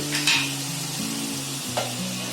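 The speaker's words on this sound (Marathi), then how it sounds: "आता पनीर बघा थोडा फ्राय केला आहे. आता त्याच्यामध्ये मी मेथी टाकते." Fenugreek leaves drop into a pan of frying paneer, setting off a steady close sizzle with a couple of sharp bursts as the greens hit the oil and are stirred.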